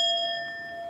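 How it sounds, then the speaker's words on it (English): A bell rung once at a live tarot reading, its clear metallic tone sounding close and then sustaining with several steady overtones as it slowly fades. "Can I ring the bell, please?"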